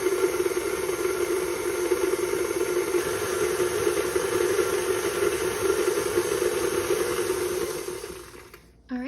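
An electric mixer whirs steadily as it blends lemonade pie filling, a continuous even motor drone for several seconds before winding down and stopping near the end.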